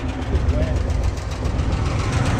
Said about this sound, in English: The engine, other than making a little bit of a clatter, is running as smooth as possible.